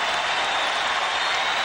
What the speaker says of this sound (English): Michael Jordan comes out of the game and gets a standing ovation